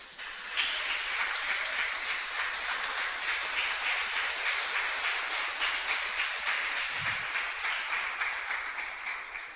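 Steady applause from a crowd, a dense continuous patter of clapping that holds evenly throughout with no voices.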